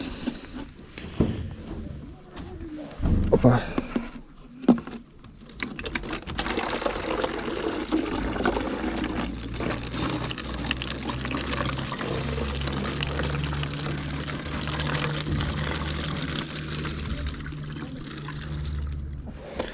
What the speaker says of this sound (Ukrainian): беремо нашу водичку, вже розведену з байкоксом, і будемо заливати